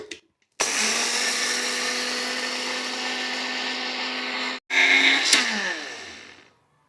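An electric kitchen grinder whirs as it powders roasted coriander and cumin seeds. It starts abruptly and runs at a loud, steady whine, pauses for a moment, then bursts back on before winding down.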